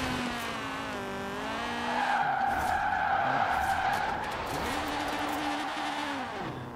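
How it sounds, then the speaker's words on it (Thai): A modified front-wheel-drive car in Forza Horizon 4 drifts with a sustained, loud tire squeal over a steady engine drone, the screech wavering in pitch as the slide continues. "นี่คือรถที่ขับเคลอนหน้าเหรอวะเราจะดิฟยังไงวะขับเคลอนหน้า"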